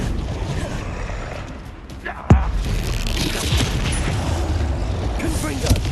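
Spell casts and explosions from the wizarding video game Hogwarts Legacy, a dense blast-filled game mix with one sharp loud boom near the middle and steady rumbling impacts throughout.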